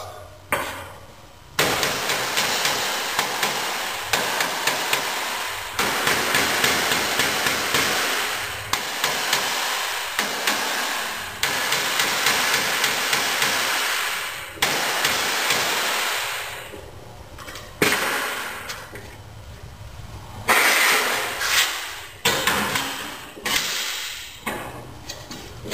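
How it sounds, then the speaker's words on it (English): Light steel hammer taps seating the ribs of a tab-and-slot steel welding table, sharp metallic knocks in irregular bursts with short quiet gaps, close and fairly loud, no talk. "light taps with the hammer to seat everything"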